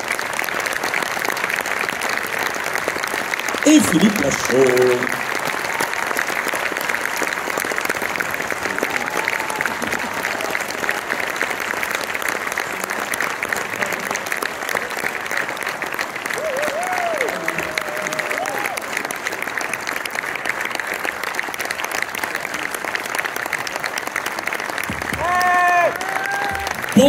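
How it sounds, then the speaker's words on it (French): A theatre crowd applauds loudly and continuously at the arrival of a film cast, the clapping sustained throughout while a voice speaks briefly at the start and again near the end. "Je vous demande de refaire les mêmes applaudissements que vous venez de faire, mais en 2 fois plus fort"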